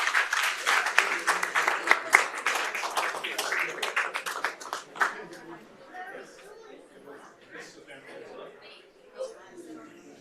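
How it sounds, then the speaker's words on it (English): Clapping from a small audience at a city council meeting greets the golf team, strong at first and then thinning out to scattered claps under ongoing talk and chatter. "let's bring a round of applause for the golf team"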